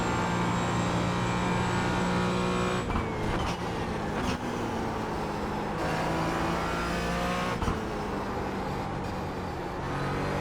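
Race cars in a racing video game roar past a Porsche, engines revving high and shifting pitch through gear changes and brief drops, loud and continuous without voices.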